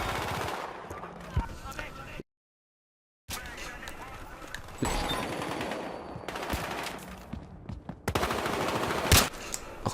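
Long-range sniper rifle shots ring out in a Battlefield Hardline multiplayer match, a few sharp cracks over continuous game noise, with a brief silent gap early on.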